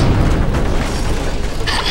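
A plasma grenade goes off in Halo: Combat Evolved, a loud, dense booming blast that fills the whole short moment.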